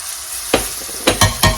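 Cooked pork and garlic frying in a pan, a quiet background sizzle broken by four sharp bursts of loud spitting as the pan is stirred.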